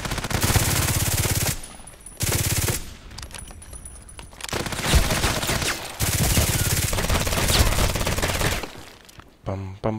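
Glock pistol fire in the shooter game Contract Wars on the Bay 5 map: loud, dense bursts of rapid shots in several long volleys separated by short pauses.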